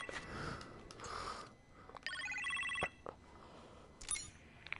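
A phone rings inside the Iron Man VR game, a bright electronic trill in two short bursts over quiet background, close and clear without speech.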